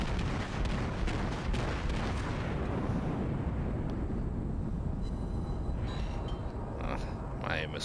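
The battleship Fuso fires its main guns in World of Warships, a dense, heavy roar of artillery that rumbles continuously, loud and close. A voice talks over it.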